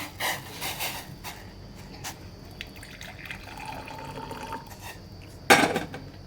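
Hot water is taken from a pot in a home kitchen: soft trickles and small clinks run quietly, then a brief louder splash and pour comes near the end.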